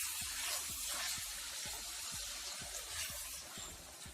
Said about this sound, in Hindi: अब हम इसमें ऐड करते हैं पानी।